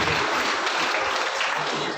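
Audience applause at a DXN Nepal business gathering, a steady dense wash of clapping that continues without a break for the whole two seconds.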